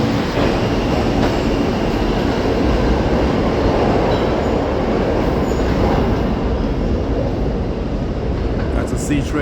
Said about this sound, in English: C train going on the subway there.